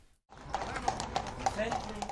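Horses carrying Polish knights in full armour on a pilgrimage to the Vatican, hooves clip-clopping in a regular walking rhythm, close and distinct after a brief silent start.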